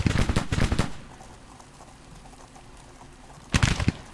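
Civil War musket volleys crackle in Grand Tactician, two bursts of rapid overlapping shots at the start and end with a quieter battlefield hum between.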